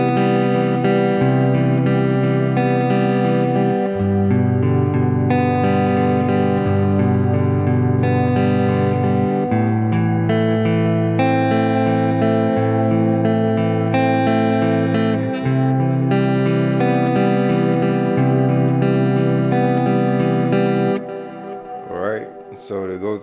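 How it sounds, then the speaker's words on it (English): Clean electric guitar playing the chorus part of a song, sustained strummed chords ringing with light chorus and reverb effects, loud and continuous before fading at the end, no talk. "So for the chorus part of the song, the clean guitar should sound like this."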